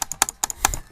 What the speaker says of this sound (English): I'll get my microphone right close so you can hear me clicking